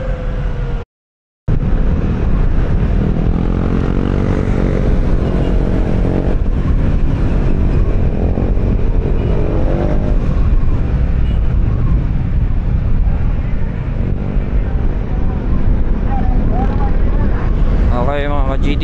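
Street traffic rumbles steadily with many motorcycles passing close by, their engines droning and swelling over wind buffeting, loud and continuous throughout.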